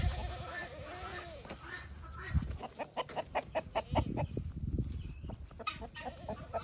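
Chickens squabble in a barnyard, with a run of sharp, rhythmic clucks and squawks in the second half over a busy, close background of fowl calls.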